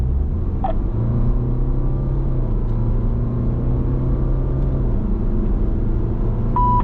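A BMW 320d Touring diesel wagon on 19-inch wheels speeds up from inside the cabin, its engine drone rising and holding in a steady, close rumble with no one speaking.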